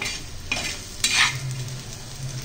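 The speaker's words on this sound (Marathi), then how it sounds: "आता मी एका वाटीमध्ये काढून घेते, बाउलमध्ये" A spoon scrapes freshly made Rajasthani coriander chutney out of a container into a small bowl: a few soft, close scrapes and taps over a quiet kitchen background, with no voices.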